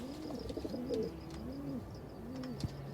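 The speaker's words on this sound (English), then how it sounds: "That pigeon's a little jittery." A pigeon coos repeatedly in the video game Broken Relic, with soft rolling calls that rise and fall in a steady rhythm over a faint background of ambient game noise.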